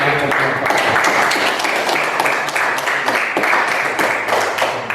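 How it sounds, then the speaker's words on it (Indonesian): Classroom applause for a presenting student group in a biology lesson, many hands clapping densely and steadily throughout at close range, with a few quiet voices mixed in. "Mari kita berikan aplaus dulu untuk kelompok"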